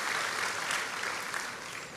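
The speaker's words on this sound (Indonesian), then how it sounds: "Beri tepuk tangan yang meriah buat Tuhan" Congregation applauding during a church worship service, a dense, steady wash of clapping from many hands filling the room, loud and continuous with no voices.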